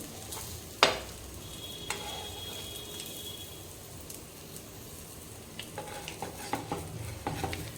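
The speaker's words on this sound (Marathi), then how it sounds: "आणि आता ह्या प्रत्येक अंड्याला थोडं फ्लिप करून घेते दुसऱ्या साईडनं, छान परतलं जाऊन दोन्ही बाजूनी म्हणून." Eggs fry in a pan for egg curry, a quiet continuous sizzle with a sharp clack as a spatula strikes the pan early on, then a cluster of light taps and scrapes as the eggs are flipped.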